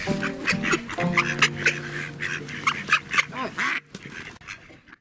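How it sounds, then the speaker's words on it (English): Ducks quack repeatedly at Fairholmes in the Peak District, a lively, close run of overlapping calls as they forage among visitors for scraps, tapering off near the end. "the ducks are still searching amongst visitors for scraps to come their way."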